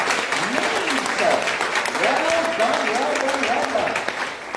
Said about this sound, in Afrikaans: Geef vir hulle eers 'n lekker hande klap.